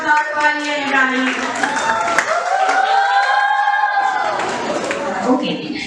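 Applause and cheering for students at a middle school graduation ceremony, mixed with crowd noise and whoops, while a voice or music carries on over the top.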